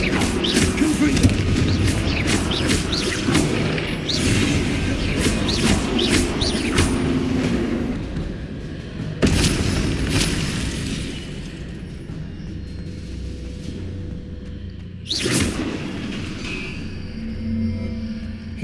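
Confringo spell blasts in the video game Hogwarts Legacy, a dense barrage of loud booming explosions and crackling bursts, with sharp sudden hits partway through and voices heard among the noise.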